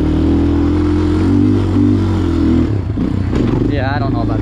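A 2008 Raptor 250 four-wheeler engine drones loudly and close on a hill climb in second gear, a steady rumble that shifts and rattles partway through, with a voice talking over it.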